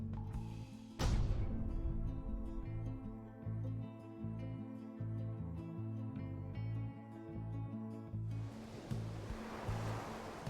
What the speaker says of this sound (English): I hear the water.